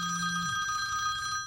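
Telephone rings continuously with a bright, steady electronic bell tone during a caller ID spoofing call, close and clear with no talking.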